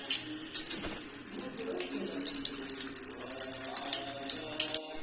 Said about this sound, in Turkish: İlk önce elimizi yıkıyoruz.